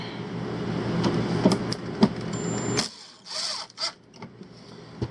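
A power drill drives screws while an electric heater is mounted inside an RV, giving a loud whirring, grinding run that stops abruptly, followed by a few short clicks and taps.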